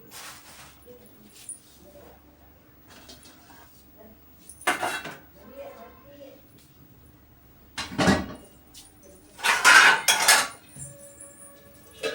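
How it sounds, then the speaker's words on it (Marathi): Dishes and pots being washed in a home kitchen: intermittent metallic clanks and clattering bursts separated by quieter gaps, fairly close, with no talking. "घासायची भांडी घासायला टाकून घेते"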